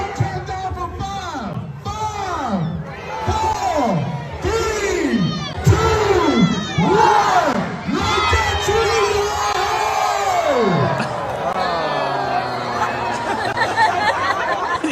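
At a Lexington tree lighting, a large outdoor crowd rises in repeated swooping collective "ooh" and "aww" groans, about eight loud waves in quick succession, followed by scattered cheers, whoops and laughter as the reaction turns.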